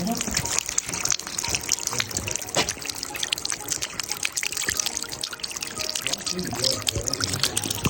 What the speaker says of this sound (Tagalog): Kahit saan po, meron po talagang water fountain.